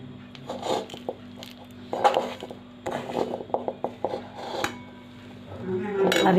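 A spoon clinks and scrapes against a metal pot as spices are stirred into thick homemade amla chyawanprash, in irregular taps and rasping strokes with quiet pauses between, fairly close by.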